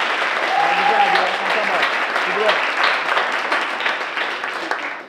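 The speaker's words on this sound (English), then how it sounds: "please, a round of applause" Audience applause at a student film festival, a steady wash of many hands clapping that holds for several seconds, with faint voices mixed in underneath.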